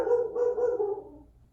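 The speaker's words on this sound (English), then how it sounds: "That's my dog, by the way." A single dog bark stretches into a short whining tail that fades out, fairly close and fairly loud, with no one talking.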